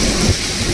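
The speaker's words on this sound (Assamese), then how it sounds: "বৰষুণ মুঠতে নেৰে।" Heavy monsoon rain pours steadily in Mumbai, a loud dense wash of close rainfall with a faint low rumble, in a very short stretch without talk.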